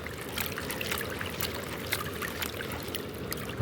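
Water swirling and trickling in a gold pan during panning, a soft continuous slosh with small splashes and gritty washes, close up and fairly quiet, with no voices.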